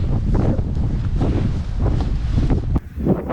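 Strong wind gusts through a tree at the rim of Fortaleza Canyon in the mountains of southern Brazil, roaring and buffeting close to the microphone with a rumbling, rustling texture.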